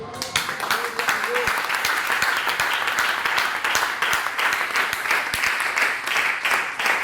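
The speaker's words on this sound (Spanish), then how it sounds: "Regálame un aplauso al Señor." A crowd claps continuously for several seconds, a dense, steady wash of applause with faint voices mixed underneath.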